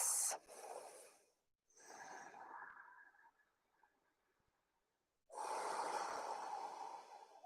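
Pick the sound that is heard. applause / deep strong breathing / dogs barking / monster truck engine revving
deep strong breathing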